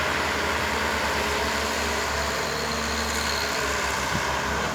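A Komatsu backhoe's diesel engine, after hydraulic system tuning, runs at a steady low idle, a continuous close rumble with a deep throb, heard alone without speech.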